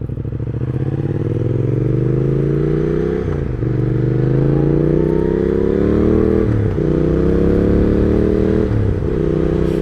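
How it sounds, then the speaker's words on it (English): Several mopeds drone past close by, engines rising in pitch, then dropping and picking up again as each one goes by. "We've got a moped gang."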